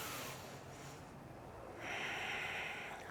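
Steady breathing in and out during a chair yoga session, soft airy exhalations followed by a louder, brighter inhale or exhale near the end, close up with no talking.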